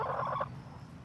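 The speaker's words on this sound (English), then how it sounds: "Chickens." Backyard hens give a brief burst of low clucking and throaty calls for about half a second, fairly close, before fading into quiet garden ambience.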